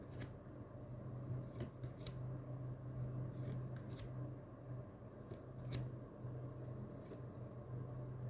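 Tarot cards are shuffled in a quiet room with a low steady hum, giving faint soft riffling and sharp card snaps at irregular intervals.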